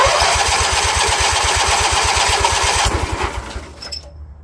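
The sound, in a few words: Kohler KT17 engine on Bolens tractor cranking and starting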